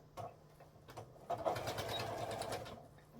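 Sewing machine back stitching on a fabric tablet sleeve, a close, moderately quiet whirring that starts with a few short bursts and then settles into a steady run.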